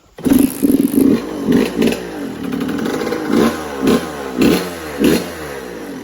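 A Suzuki RM85 dirt bike engine that will not idle sputters and revs in repeated bursts, rough and uneven, close by and loud, with clattering mechanical noise between throttle blips.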